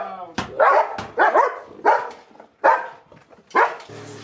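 Loud dog barks at close range, six or seven sharp, harsh barks in an uneven run, with a person's voice mixed in between them.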